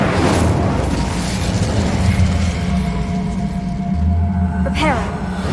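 Incendio fire spell cast in Hogwarts Legacy: a loud whooshing burst opens into a sustained fiery roar and rumble, with a rising whistling sweep near the end.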